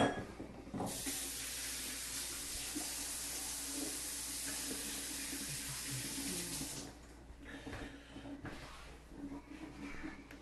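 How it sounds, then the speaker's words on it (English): Tap water runs steadily into a kitchen sink as hands are washed, a loud close rush lasting several seconds before easing into softer splashing and drips, with no talk. "I'm going to wash my hands."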